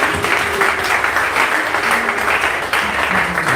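A church congregation claps loudly, a dense sustained burst of applause filling the space, with faint voices mixed into the crowd noise.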